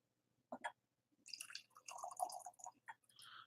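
Black Velvet whisky poured into a Glencairn glass: a faint, close trickle and glug of liquid with a few small clinks, quiet and brief in an otherwise silent room.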